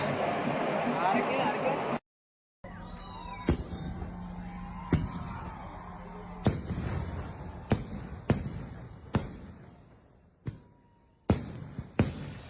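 Fireworks at the Uthralikkavu Pooram temple festival, a series of sharp, separated booming bangs at irregular intervals, some loud and close, with crowd murmur and voices between the blasts.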